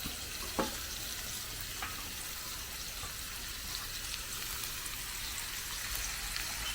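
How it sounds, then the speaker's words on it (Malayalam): Thinly sliced medium onions fry in a pan, giving a steady, even hiss of sizzling oil throughout, with a couple of soft utensil taps near the start. "മീഡിയം സൈസ് സവാള ചെറുതായിട്ട് കനം കുറച്ച് അരിഞ്ഞിട്ട് നമ്മൾ അതിനകത്തേക്ക് ഇട്ട് കൊടുക്കുകയാണ്"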